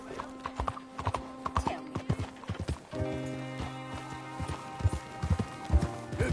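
Horse hooves clip-clopping in a steady rhythm in Red Dead Redemption 2 on PS5, close and clear over a low musical background, with a brief whinny.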